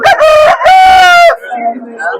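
A rooster at the Sabunchu poultry market lets out a loud, close crow in two strong bursts, followed by softer clucking and faint market murmur.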